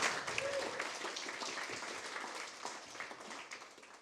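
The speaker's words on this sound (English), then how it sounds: "Yeah, round of applause." Audience at a startup pitch event applauding the audience-vote winner, a moderate wash of clapping that fades gradually over a few seconds.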